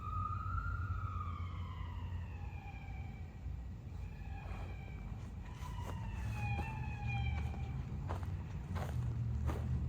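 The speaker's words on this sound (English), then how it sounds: "You hear the sirens?" Wailing sirens rise and fall in the distance, several overlapping, over a steady low rumble of street traffic.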